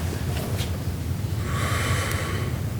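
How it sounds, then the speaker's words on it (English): A long deep breath drawn in through the mouth before playing a musical phrase, a close, airy inhalation that swells toward the end, with nobody speaking. "Nice deep breath there."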